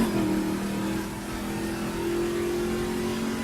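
In The Crew, a car on the Midwest sand dune qualifier course drones with a steady, close engine hum that holds a near-constant revving pitch with no pauses.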